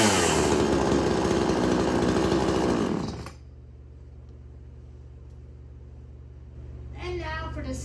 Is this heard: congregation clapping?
no